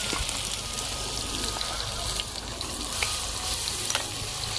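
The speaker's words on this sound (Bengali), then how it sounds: "আদা রসুন দেওয়ার পরে এই নাড়াচাড়াকে মিশিয়ে নিই" Ginger and garlic fry with onion in hot oil in a chicken kosha recipe, stirred in the pan: a steady, loud close sizzle with scattered scraping taps of the spoon throughout.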